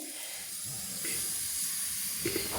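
Cauliflower paratha fries in oil in a pan, giving a steady, soft hiss of sizzling oil that carries on throughout with a few faint clinks and shifts nearby.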